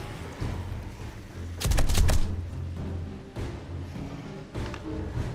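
A gun fired in the video game 7 Days to Die during a blood moon night, a short cluster of sharp shots near the middle, then a few scattered single bangs over low game ambience.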